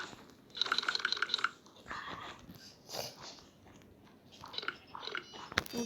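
Cake is eaten in Minecraft, with quick crunchy biting and chewing bursts in short rhythmic runs, followed by softer game sounds and a few more munches. The sounds are close and fairly quiet.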